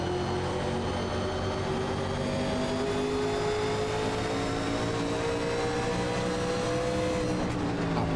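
Race car engines in the iRacing sim at Phoenix Speedway drone steadily at high RPM, with several cars layered, pitch shifting slowly as they pull through the revs and a higher whine on top.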